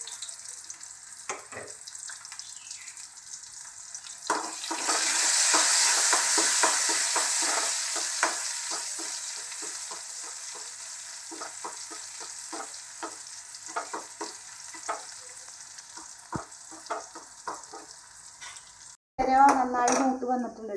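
Sliced shallots fry in hot coconut oil for a prawn, jackfruit-seed and mango curry, a loud sizzle swelling as they hit the pan, with repeated spoon scrapes and clinks against the pot, then a sharp clatter at the end.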